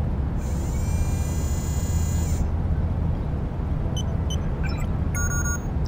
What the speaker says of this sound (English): I'm gonna take the time to hack this